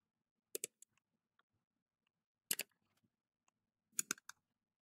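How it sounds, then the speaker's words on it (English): Sharp mouse clicks in three short clusters: a double click, then a pair, then a quick run of three or four. They sound close and dry, with near silence between the bursts. "After downloading the mouse click sound effect"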